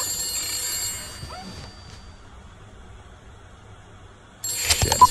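A telephone ringing in the video game The Beast Inside, a bright electronic trill that starts, drops away into quiet room tone, then returns loud and sharp at the end.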